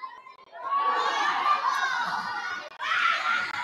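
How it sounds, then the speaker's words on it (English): Crowd noise at a ladies rugby league match between Erub United Ladies and Burdekin Delta Dolphins Ladies: a steady swell of cheering, shouting and high-pitched voices from spectators, rising and falling with a brief dip before surging again. "And the crowd is starting to build too"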